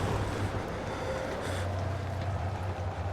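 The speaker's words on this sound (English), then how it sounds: "Why is it so fucking windy?" Wind howling in Amnesia: The Dark Descent, a faint steady rushing gust with low rumbling undertones, continuous and without speech.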